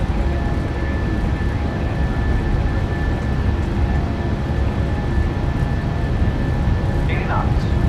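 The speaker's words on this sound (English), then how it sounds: "And Toga. Takeoff power is set." Simulated PMDG 737-800 jet engines at takeoff power in Microsoft Flight Simulator 2024, a loud, steady, broadband roar with a faint whine that holds without letup throughout and is heard alone.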